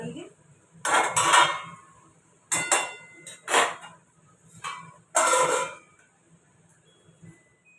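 Metal clatter of a lid going onto a pot of boiling potatoes in a home kitchen, several sharp clanks and scrapes in separate bursts with quiet gaps between, fairly close.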